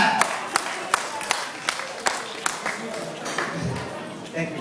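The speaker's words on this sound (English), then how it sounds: "a round of applause for that." Applause for a couple on stage, scattered crowd clapping with sharp individual claps standing out, continuing steadily at moderate loudness before tapering.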